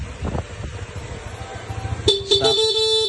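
A Honda Click V3 scooter's horn sounds loud and close in a steady electric tone that begins partway through and holds to the end, after quieter mechanical background noise.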